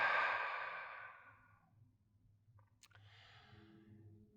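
A group exhales together through open mouths during a breathing exercise at a presentation, a broad breathy whoosh that fades over about a second and a half, followed by quiet room tone and a faint click.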